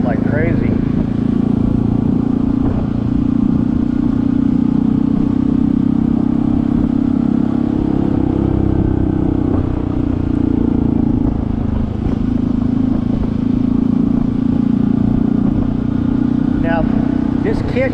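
A Honda CT125 motorcycle fitted with a 142cc big bore kit and a larger fuel injector is ridden on a dusty dirt trail, its engine droning steadily with wind rush and a person talking over it.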